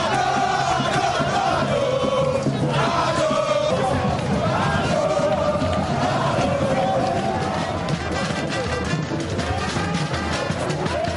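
Dense outdoor crowd roaring and shouting continuously as presidents ride past in an open convertible car, a loud sustained wall of voices and cheers with no pauses.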